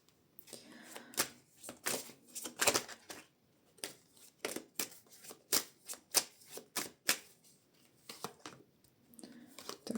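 Rapid bursts of tarot card shuffling, repeated riffles and snaps in quick clusters with short pauses between, close and fairly crisp.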